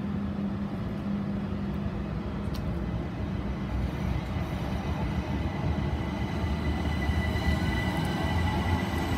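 A Class 377 electric train departs Worthing station, rumbling steadily nearby, a dense low roar of wheels and motors with a faint high whine from a cooling fan, continuous throughout.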